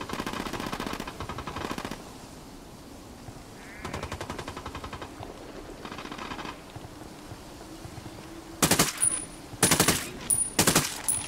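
Automatic gunfire in the Ghost Recon Wildlands video game: several loud bursts of rapid shots, with the densest and sharpest volleys packed near the end.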